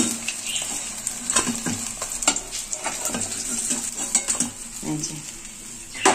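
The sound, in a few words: fish pieces frying in a pan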